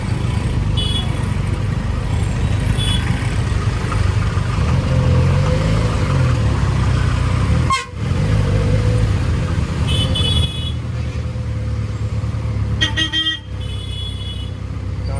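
Dense road traffic rumbles steadily with engines, and a few car horns toot briefly over the constant drone.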